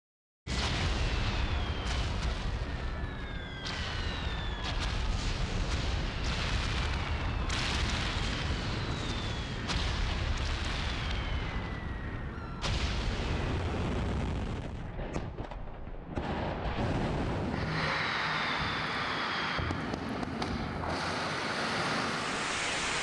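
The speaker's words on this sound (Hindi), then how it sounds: "ज्यादातर मिसाइलों को इजराइल इंटरसेप्ट कर रहा है, लेकिन कई मिसाइलें इजरायली शहरों में कोहराम मचा रही हैं।" Iranian missile strikes and interceptions over Israeli cities produce a loud, continuous roaring rumble broken by repeated heavy booms, with several descending whistling streaks overhead; no one speaks.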